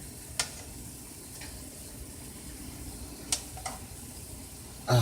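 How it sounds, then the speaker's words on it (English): Coated banana slices sizzling in a frying pan, a steady soft hiss with a few sharp clicks of flipping and a louder clatter at the end, no talk. "So I'm going to do some flipping here."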